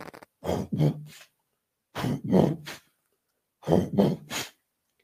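A voice imitates a whooshing, breathy rhythm in three paired bursts, like a heart sound with a murmur, spoken close with pauses between.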